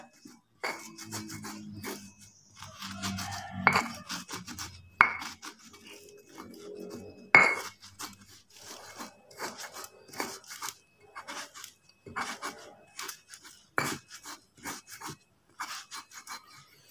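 Fishing bait ingredients being ground by hand for tilapia bait, with repeated scraping, rasping strokes and occasional clinks of a pestle against a bowl, uneven in rhythm and close by.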